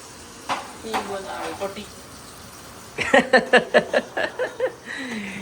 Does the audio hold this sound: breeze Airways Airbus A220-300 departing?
no